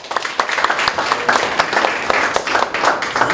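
An audience at a Korean CEO education lecture claps together, a lively, fairly close round of applause with dense, uneven hand claps sustained across the whole stretch.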